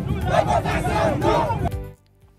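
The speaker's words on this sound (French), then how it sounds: "Les slogans scandés par la foule étaient univoques" A protest crowd chants slogans in unison, loud and rhythmic, then cuts off abruptly into near silence.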